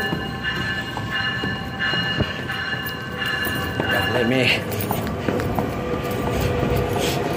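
A Metra commuter train pulls into Homewood station with a steady rumble of railcars, rhythmic wheel clicks and a brief squeal of brakes or wheels, close by and fairly loud, while a person speaks over it.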